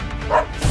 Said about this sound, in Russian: Нет, нет. Тихо, собачка,